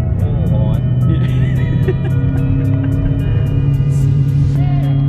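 A car fitted with newly installed XYZ coilovers pulls hard in first gear: a loud, close engine drone with a steadily rising pitch, filling the whole clip without pause.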